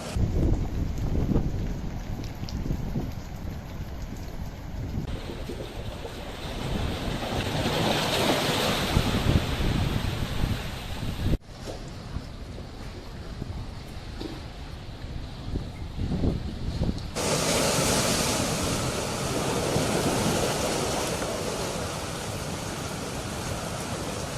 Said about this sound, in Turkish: rüzgar da devam ediyor gene de durma, durmuyor